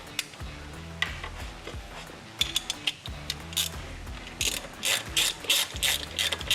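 A ratchet with a T40 Torx bit drives a screw into a Corvette short-throw shifter, giving quick repeated pawl clicks in short bursts, close and fairly quiet.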